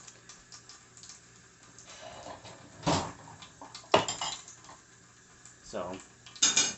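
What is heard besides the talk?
washing silverware, plates and dishes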